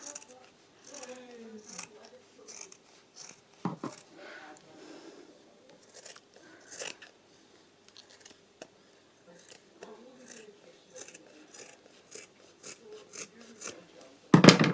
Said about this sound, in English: just trim the bottom up a bit here